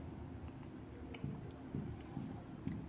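A teacher writes an example sentence on a classroom board during an English grammar lesson, producing several short scraping strokes in a regular rhythm over a steady low room hum, with no talking.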